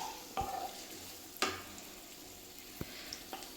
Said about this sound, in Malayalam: ഇതെല്ലാം കൂടെ നല്ലവണ്ണം ഒന്ന് വഴറ്റണം